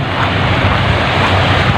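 Strong northeast monsoon wind roars steadily across open sea during fishing, buffeting the microphone, with the rush of waves and surf beneath it and no voices.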